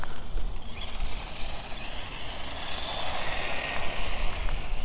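Brushless motor of a Tamiya DT-01 RC car running, a continuous whirring buzz with gritty mechanical drivetrain noise, close and steady at moderate loudness with no talk.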